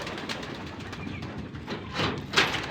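Domestic pigeons let out of their house under cloudy, drizzly skies coo softly and steadily nearby, with a brief rustle or clatter near the end.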